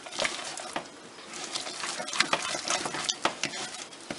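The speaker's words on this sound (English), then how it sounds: "So she is stirring the first egg right now." A spoon stirs an egg into homemade Disneyland-style churro dough, giving irregular wet scrapes, soft slaps and occasional light taps against the bowl, close up and fairly quiet.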